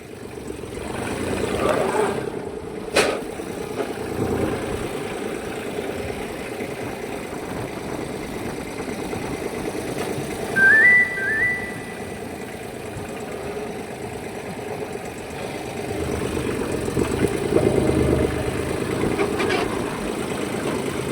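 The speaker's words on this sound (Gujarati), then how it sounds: "અમારે વિશાલભાઈ જો ટ્રેક્ટર હાંકે છે" A tractor engine runs while being driven across a field, a steady low rumble with vibration close by, swelling louder at moments, with a brief high whine partway through and faint voices in the background.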